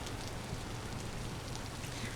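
Steady rain in the Vintage Story video game hisses evenly and softly, a constant patter with no talking.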